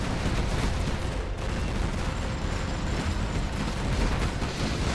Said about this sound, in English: BoYkaH now returning fire.